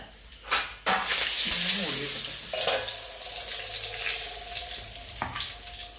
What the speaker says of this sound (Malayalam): കടല് പൊട്ടി പാലേക്ക് തെറിക്കണാവോ തെറിച്ച